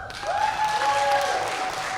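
Audience applause at a stand-up comedy show during a comedy festival, a steady crowd clapping over two seconds with some whoops or tonal voices mixed in.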